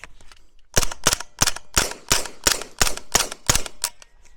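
Nine suppressed shots from an MP5K-PDW firing 147 grain subsonic, 124 grain NATO and 115 grain rounds, sharp close cracks at a steady deliberate pace with short silent gaps between.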